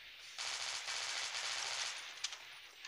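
A Gatling gun in the shooter game Dead Trigger fires one long, loud, rapid burst that lasts about two seconds before it stops.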